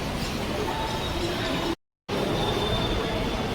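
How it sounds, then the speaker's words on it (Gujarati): A metro train carries passengers on a first ride, giving a steady, loud interior rumble and rail noise that runs continuously, broken once by a brief dead-silent cutout midway. "First time metro experience."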